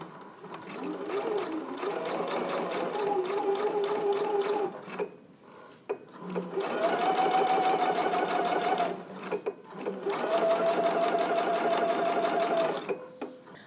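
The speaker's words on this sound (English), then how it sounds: "I'm going to begin stitching on this side here, and I'm going to stitch again close to the edge." A sewing machine stitches a belt loop close to the edge in three steady runs of fast, even mechanical whirring, each stopping briefly between passes, close and clear.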